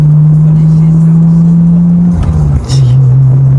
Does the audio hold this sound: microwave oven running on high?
no